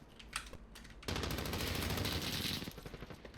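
Automatic gunfire in the Call of Duty Modern Warfare video game: a few scattered clicks, then a loud rapid burst lasting about a second and a half, tapering into quieter ticking.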